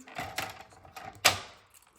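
Card paper trimmed for a handmade modern Christmas card, heard as several short crisp cuts or slides, the loudest sharp stroke near the end, close and fairly quiet with no talking.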